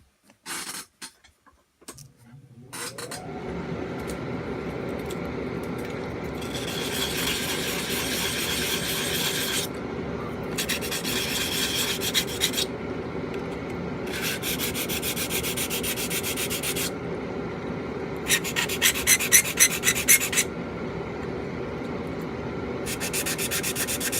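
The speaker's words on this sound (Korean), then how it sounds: "이제 거친 사포로 사포질을 하면서 평면을 맞춰줍니다" Steady scratchy rasping of coarse sandpaper flattening a cut part of a large Bandai Unicorn Gundam plastic model, continuous and close, with bursts of brighter, harsher strokes.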